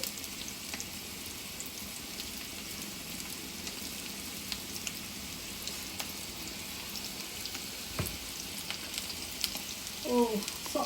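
Oil heats in a new ceramic pan, a faint, steady broadband hiss of frying running throughout with a few light clicks and a small scrape near the end, no talking.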